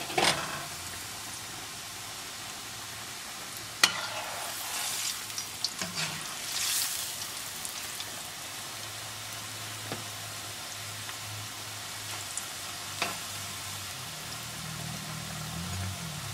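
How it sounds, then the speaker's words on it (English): Crescent-shaped maida mathri for cashew namkeen fry in hot oil over medium heat, a steady soft sizzle and bubbling with occasional faint stirring clinks and pops throughout. "Now I'm going to fry my crescent mathri."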